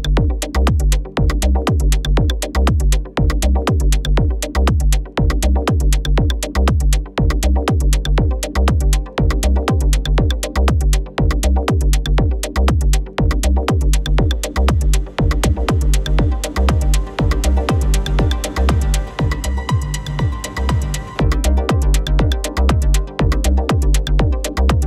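A synth track built in Ableton Live plays loud and continuous, its rhythm shaped by an auto filter and washed with reverb and delay, while faint vinyl crackle sits low underneath for a vintage feel; a steady pulsing beat runs throughout.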